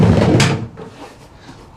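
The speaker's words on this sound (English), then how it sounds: "The door's shut with a nice thud on this as well." A Nissan e-NV200 Tekna Rapid Plus electric van door shuts with one loud, close, solid thud at the start, followed by a short fade into quiet.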